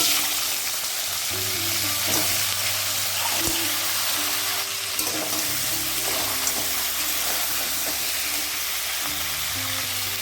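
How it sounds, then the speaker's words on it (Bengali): Crabs rubbed with turmeric and salt fry in hot oil in a pan after potatoes, a steady broadband sizzle running throughout with occasional clinks and stirring knocks, no talking. "এই তেলে কাঁকড়াগুলোও আমি ভেজে নেবো"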